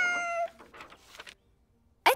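A small cat gives a sharp, pained meow up close, followed by fainter broken sounds, a short silence, then a sudden loud burst at the end.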